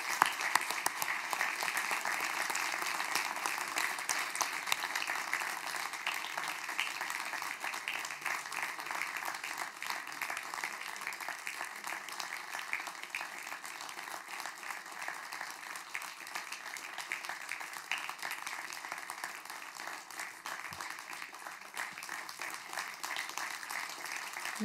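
Sustained audience applause at an award ceremony for special achievement in culture and the arts, steady and dense for the whole stretch, with no talk over it.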